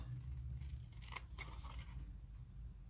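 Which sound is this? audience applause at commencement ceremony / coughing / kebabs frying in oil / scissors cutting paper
scissors cutting paper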